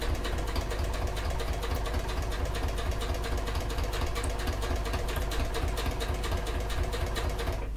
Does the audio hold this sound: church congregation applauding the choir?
no